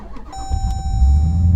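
A cammed Jeep SRT with a rebuilt forged engine cranks over and settles into a heavy, close, low rumble that swells louder as it idles, with a faint steady tone above it.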